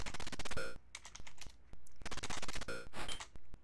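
Rapid clattering keystrokes on a computer keyboard come in two dense bursts, with scattered single clicks between them, close and fairly crisp.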